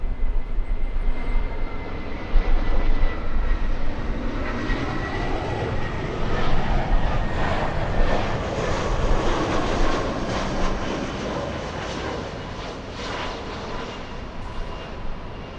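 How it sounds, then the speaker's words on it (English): An Airbus A319 airliner lands at LAX, its steady, loud jet engine roar filling the whole stretch with broad rushing noise and gradually easing off toward the end. "We have an Airbus."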